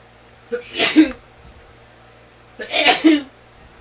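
Two sharp human sneezes come about two seconds apart, each with a quick intake of breath followed by an explosive burst, close and fairly loud over a faint background hum.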